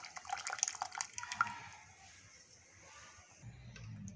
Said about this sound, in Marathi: आता हे पुरणाचं जे पाणी होतं डाळ शिजवलेलं आपण ते मी यात घालून घेते